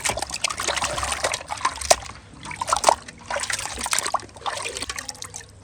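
Water trickles and splashes steadily while cleaned catfish are rinsed by hand, with a continuous close, wet sloshing and dribbling and a few sharper splashes.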